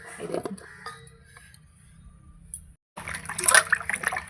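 Cut potatoes rubbed and washed by hand in a basin of water, producing splashing and trickling sloshes that start, pause briefly and then grow busier and louder.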